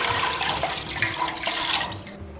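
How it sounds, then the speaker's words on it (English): Two liters of water pour steadily into a soup pot on a stove set to medium-high for Jamaican chicken foot soup, a continuous close splashing rush that stops abruptly near the end. "to my pot I'm going to add 2 liters of water"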